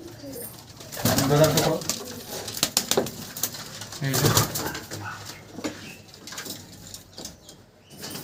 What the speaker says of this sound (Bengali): এই যে পায়রাগুলো একবার দেখে নিন এক ঝলক